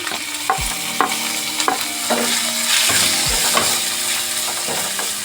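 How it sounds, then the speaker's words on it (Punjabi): Grated onions frying in a pan after garlic and ginger, a steady sizzle with repeated scraping and stirring knocks from a spoon throughout, close and fairly loud with no talking. "ਪਿਆਜ਼ ਨੂੰ ਅਸੀਂ ਚੰਗੀ ਤਰ੍ਹਾਂ ਭੁੰਨ ਕੇ ਤਿਆਰ ਕਰਾਂਗੇ"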